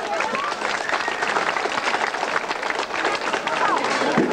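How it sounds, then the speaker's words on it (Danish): An audience at a 1986 Danish performance by the Globus Smrti troupe claps in sustained, loud applause that fills the whole stretch, with a voice speaking over it. "Skal vi give ham lille bifald?"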